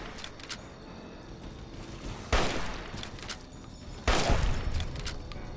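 Gunfire in the video game Fallout: Tale of Two Wastelands against a centaur: two sharp, loud shots several seconds apart, each followed by a short ringing tail over a low ambient game drone.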